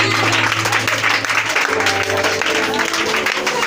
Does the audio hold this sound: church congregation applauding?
yes